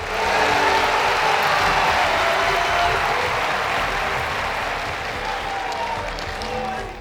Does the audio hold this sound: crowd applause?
yes